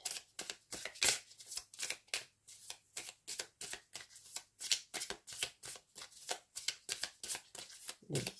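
Playing cards shuffled close up in a steady rhythm of quick riffling bursts, about three per second, continuing alone with no talk.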